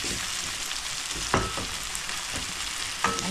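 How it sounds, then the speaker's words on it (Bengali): Onions fry in oil in a pan for green curry, a steady close sizzle with a few sharper stirring scrapes. "পেঁয়াজটা ভেজে নিই"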